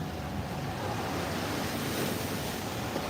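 Ocean surf washing onto El Nido Beach in the Philippines at high tide, a steady, loud, continuous roar of breaking water with wind buffeting the microphone throughout.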